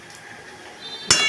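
A metal lid set down on a cooking pot of simmering spiced curry gives a single sharp clink near the end, close by, after a quiet hissing background.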